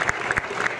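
A crowd applauds student speakers at a Cesar Chavez march at a school, a brief dense burst of steady clapping at moderate distance.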